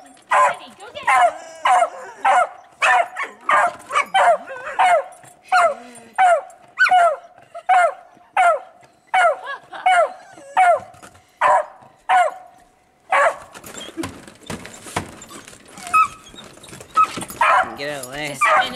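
A dog giving rapid sharp barks in a steady repeating series, close and loud, turning to whimpers and yips toward the end, with people talking now and then.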